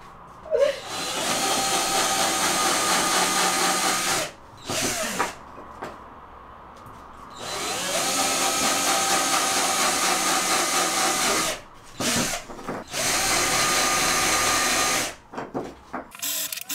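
A power drill bores holes indoors in several long, loud whirring bursts broken by short stabs and brief pauses.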